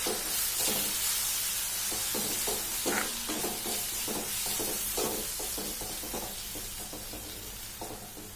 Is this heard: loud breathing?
no